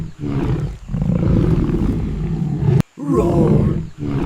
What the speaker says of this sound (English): The lion's roar is loud and strong.